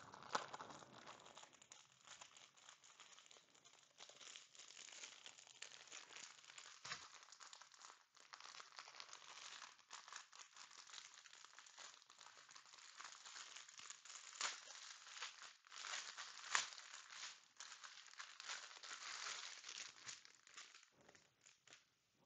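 Bags of diamond painting diamonds being unwrapped, giving a continuous close crinkle and crackle of plastic packets with occasional sharper crunches, fairly quiet, with no talking.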